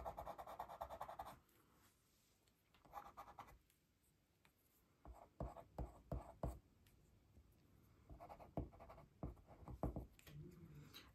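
Coloured pencil strokes scratch across paper while a realistic bumblebee is drawn, faint close scraping in short bursts and quick repeated strokes, with pauses between.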